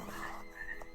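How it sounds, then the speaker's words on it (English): Frogs croak close by at a backpacking campsite in Desolation Wilderness near Lake Tahoe, giving a couple of loud, rasping calls within a single second. "Frog noises."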